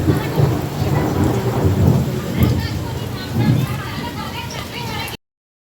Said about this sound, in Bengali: সেই জোরে ঝড় বৃষ্টি হচ্ছে